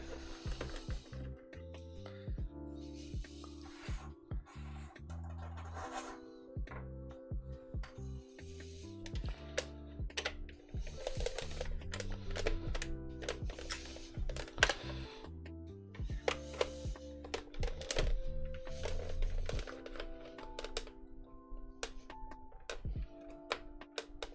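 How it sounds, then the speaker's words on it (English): Screwdriver working at screws on a Sega Dreamcast console, a close, quiet series of ratcheting clicks and ticking turns in irregular bursts, with brief metallic scrapes and small pauses. "So now we're going to undo the 4 screws."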